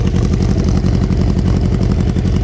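Close and loud, a Honda XR250 dirt bike engine runs with a rapid, even putter, a steady single-cylinder idle with slight clatter and no talk over it.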